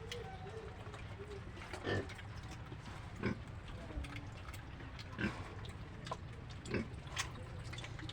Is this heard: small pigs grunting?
yes